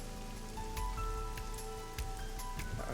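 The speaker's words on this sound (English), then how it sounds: "Parasol's getting pelted by the rain." Rain pelts a parasol in the video game Ai: The Somnium Files, a steady patter of drops under soft tonal game music, with occasional sharper taps.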